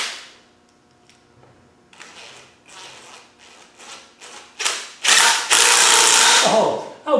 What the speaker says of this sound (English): how did they manage in the past without an impact driver, eh?